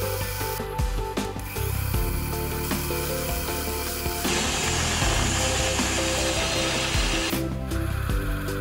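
Carbon steel hand tap cutting threads into drilled steel in a home machine shop, a continuous grinding, ratcheting mechanical clatter that holds steady and close throughout with no talk.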